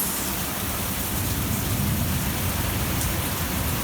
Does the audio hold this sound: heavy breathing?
no